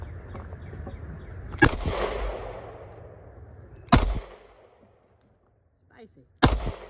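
A pistol fitted with a Tyrant CNC Hellcat trigger fires three sharp, loud shots about two seconds apart, each cracking then ringing out, with faint voices murmuring between them.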